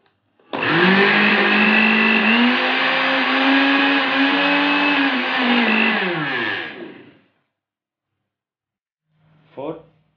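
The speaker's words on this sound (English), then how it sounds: "it turns the blender on by turning the selector switch" A blender motor whirs loudly and steadily for about six seconds, then winds down and stops; a short click follows after a pause.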